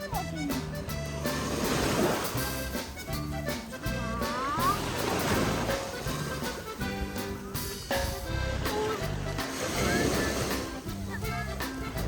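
Ocean waves wash onto a beach in repeated surges, loud and close, with children and an adult talking over the rushing water.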